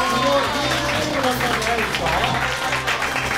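An audience claps for the winner of an arm-wrestling bout among YouTubers. Steady, fairly loud applause runs throughout, with voices talking over it.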